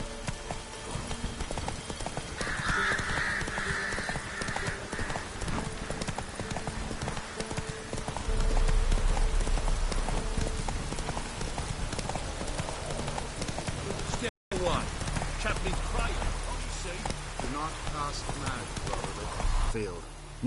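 Horse hooves galloping in The Witcher 3, rapid rhythmic clip-clop beats running steadily close by, with game music, voiced dialogue and a brief pause in sound.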